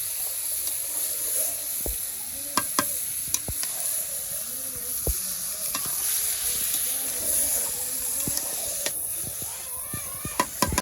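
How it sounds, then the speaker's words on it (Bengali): Meat and fried onions sizzle in a pan for a village-style biryani, a constant hiss broken by sharp scraping and clacking stirs, close and alone with no talk. "আবার পেঁয়াজ ভাজা হয়ে গেছে, আর মাংসগুলো দিয়ে দিব।"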